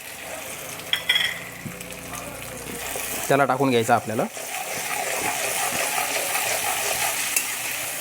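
Tomato puree from two medium tomatoes hits a pan on high flame for egg bhurji masala gravy, giving a brief loud sizzle with stirring clatter, then a steady frying hiss beneath a speaking voice.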